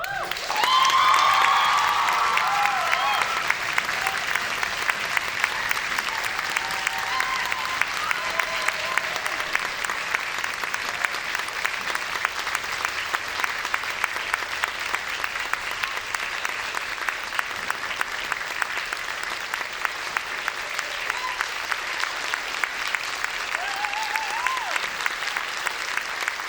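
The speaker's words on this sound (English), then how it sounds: "Can we please give a big round of applause to Tim for organising this entire..." Audience applause at a summer music camp concert, steady sustained clapping from a sizable crowd that swells at the start and continues evenly throughout, with faint voices mixed in.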